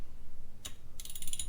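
Socket wrench ratcheting on a Honda XR100R motorcycle during carburetor work, heard as a short metallic click burst followed by a faster run of ratchet clicks, close up.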